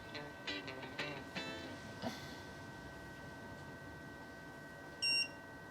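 A KSGER T12 soldering station gives a few short electronic beeps close by while heating to 350, then quiet hum, ending with one higher, brighter beep.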